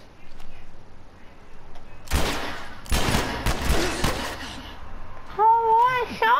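Gunfire in The Last of Us Remastered on Grounded Mode, with several loud sharp shots and short bursts close by, separated by quiet gaps, and a tonal in-game sound at the end.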